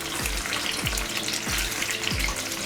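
Boiled eggs frying in hot oil, a soft continuous sizzle broken by four evenly spaced low thumps from stirring or turning, fairly quiet with no voices.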